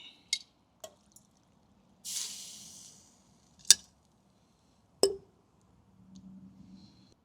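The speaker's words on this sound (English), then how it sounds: "let's dump this water out and see what we got" Water is tipped out of a container in a scrap-jewelry gold-melting setup: one brief, quiet pouring splash between scattered drips and sharp clinks in a still room.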